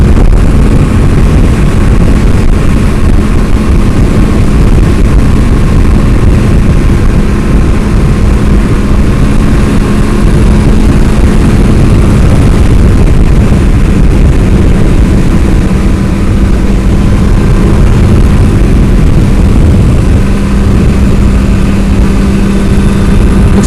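A Suzuki GT550 motorcycle engine drones steadily in fifth gear on the highway, a loud, constant roar mixed with heavy wind buffeting heard close from the rider's position throughout.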